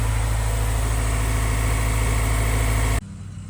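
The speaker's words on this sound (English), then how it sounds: "gonna let her idle and get the coolant through the system" A Honda B20 engine swapped into an EK car idles steadily close by, a constant loud droning hum that cuts off abruptly near the end to quieter background noise.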